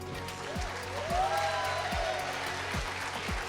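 A church congregation applauding as guest preacher Pastor Matheus Martins is welcomed, steady moderate clapping with a few louder thumps and music underneath, no speech.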